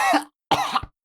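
A person imitates the coughing of someone after a first cigarette: two short, harsh coughs separated by a brief pause, close and alone.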